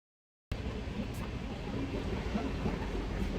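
Steady rumbling interior noise of a moving passenger train, continuous and fairly loud after a brief silent start, with no talk.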